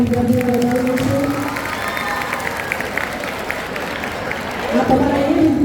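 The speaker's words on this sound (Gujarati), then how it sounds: "તાળીઓના ગડગડાટથી આપણે તમામ વિદ્યાર્થીઓને વધાવી લઈશું" An audience at a school annual function applauds the students, crowd clapping mixed with cheering and children's shouts, while a speaker talks over the noise at the start and again near the end.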